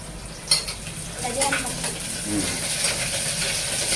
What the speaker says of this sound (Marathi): आता त्याच्यात थोडासा आता कांदा फ्राय करतोय.